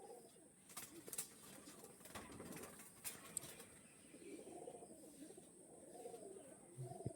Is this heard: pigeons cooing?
yes